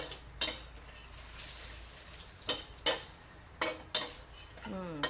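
Black pepper frying gently on low heat in a pan, a soft continuous sizzle broken by several sharp spatula scrapes and stirs at irregular intervals.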